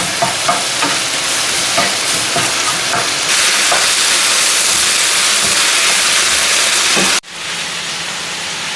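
Food frying and sizzling steadily in a pan over a low flame, with light stirring scrapes early on; the loud, continuous hiss cuts off abruptly near the end, leaving a quieter background.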